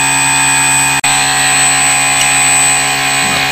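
An RC motor driven by a Hobby King Red Brick 30 amp ESC runs at under half throttle, giving a loud, steady high-pitched whine with one brief dropout near the start and no talking.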